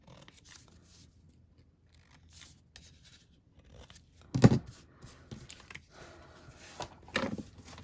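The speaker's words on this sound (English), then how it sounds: "Let's just give that a quick trim." Papercraft card being trimmed with scissors or a paper trimmer, soft scattered rustles and one sharp cutting snip, close and quiet.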